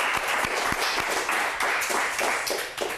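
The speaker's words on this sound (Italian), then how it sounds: "Ritorna di Piazza Pallone, applauso." Studio audience applause on an Italian local TV football talk show, steady dense clapping throughout with a few sharper nearby claps standing out, fairly loud and without speech.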